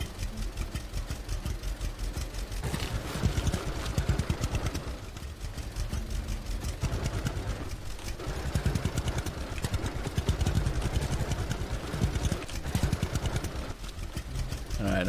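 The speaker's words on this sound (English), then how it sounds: "Oh, there's the old tractor." An old tractor engine idles in the farming video game Farmer's Dynasty, a loud, close, rough rhythmic chugging that runs continuously with slight surges in intensity.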